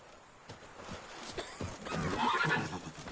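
The horse Roach in The Witcher 3 gallops with sharp hoof clops, then lets out a loud, close, trembling whinny that swells in the second half.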